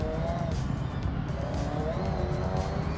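Race cars roar through a multi-lap race in the Forza Horizon 6 video game, engines droning steadily with shifting pitch and brief tire squeals, a continuous loud mechanical wash.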